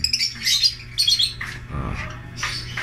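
Caged birds, including breeding-ready hens, offered for sale squawk and chirp in bright, shrill bursts, several loud calls close by over a low background murmur.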